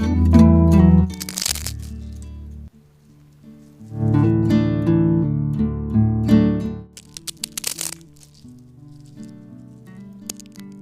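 Crispy homemade kue semprong wafer rolls crunch in loud, close bursts of sharp cracking and crackling, separated by short quiet pauses, with no speech.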